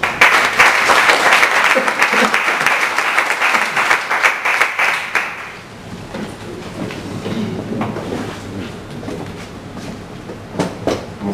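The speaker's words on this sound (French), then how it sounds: "vous pouvez l'applaudir en attendant" A meetup audience claps for a presenter, a dense burst of applause that runs for about five seconds and then thins into a few scattered claps and room noise, with some talk near the end.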